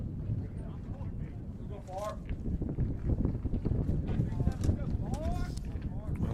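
Wind blows steadily across a microphone at a college baseball game, a constant rough rumble with gusty swells under ongoing talk from people nearby.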